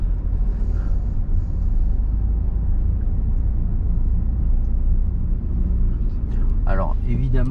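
A car on a driving lesson pulls away again after a pedestrian crossing in a 30 zone, its engine a low steady rumble heard from inside the cabin, with a brief voice near the end.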